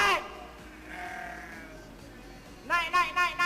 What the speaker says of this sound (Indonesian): segerombolan kambing datang dan berlarian ke arah suaranya